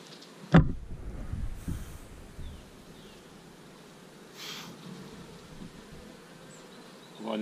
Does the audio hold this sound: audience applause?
no